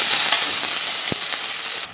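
Chopped onion frying in about two spoonfuls of oil in a pan makes a constant loud sizzle with scattered crackles and a soft clack partway through, heard close with no speech.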